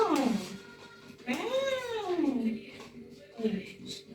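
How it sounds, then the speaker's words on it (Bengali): Three drawn-out, wavering meows at a household in a village home, one short call near the start, a long rising-and-falling one in the middle and a brief final one, fairly close against a quiet room. "ম্যাও বলছে ভয় দেখা, সিটি মারা, ঝগড়া করে বলছে জানো মারে।"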